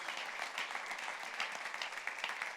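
Church congregation applauding during a sermon, a sustained wash of many hands clapping at moderate distance, fairly even with small swells, no voices over it.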